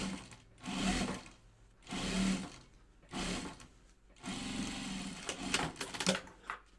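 A sewing machine stitches a quarter-inch seam on a bag with backstitching, running in several short bursts of steady mechanical whirring separated by brief pauses.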